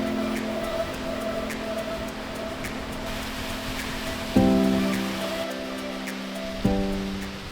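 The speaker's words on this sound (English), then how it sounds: "I think that's actually the first time that I've seen a waterfall" Cataract Falls in Indiana gives off a steady, broad rushing roar of falling water that fills the whole stretch, with two brief tonal calls rising out of the noise near the end.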